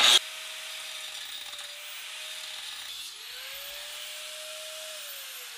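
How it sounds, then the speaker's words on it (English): Metal plate being cut on a Vevor deep throat shrinker/stretcher repair, a steady grinding, rasping hiss running continuously and close, with a brief louder burst at the start and a slight drop in pitch midway. "If you can't tell, I'm actually doing my weld prep while I'm cutting this."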